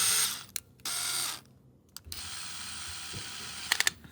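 A metal lock on a camper van's built-in bed platform snaps back into place: a close burst of rattling and scraping, then a quiet gap, then a few sharp mechanical clicks near the end, with no talking.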